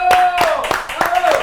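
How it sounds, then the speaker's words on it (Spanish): Audience applause welcoming a guest on an Argentine talk programme, a handful of distinct claps with a sustained tone running beneath, brief and fairly loud. "Al señor Alexis Dabat con un fuerte aplauso."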